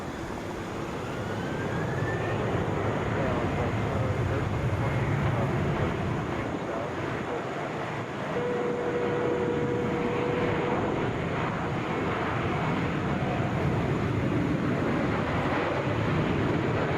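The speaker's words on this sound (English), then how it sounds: "Delta Flight 901 coming in from Cleveland, Airbus A321" Delta Airbus A321 jet arriving from Cleveland and landing at Atlanta's airport, a steady broadband engine roar with wind rush that holds loud and even throughout, a faint whine surfacing midway.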